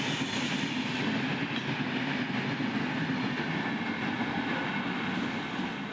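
A WAP-7 electric locomotive hauls an express train past at full speed, a loud, steady roar of wheels and rail noise filling the whole stretch without pause, close to the listener.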